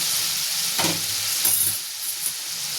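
Coconut paste, mustard paste and poppy seed paste with spices sizzle and fry steadily in a hot pan, a constant close hiss with a brief stirring scrape in the middle.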